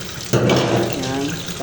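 Tap water gushes steadily into a sink while a dialyser is rinsed, starting abruptly and running loud and close for over a second, with a voice speaking faintly alongside.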